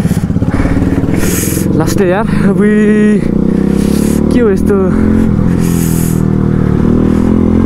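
A motorcycle engine runs steadily, loud and close, with a constant throbbing drone while someone talks over it.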